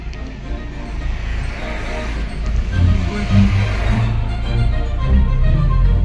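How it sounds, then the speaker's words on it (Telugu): Cars pass along a village road near Guggilla in Bejjanki, a steady low engine and tyre rumble that swells slightly as the vehicles come closer, with no talk over it. "ఇక 2 కార్లు వస్తున్నాయి"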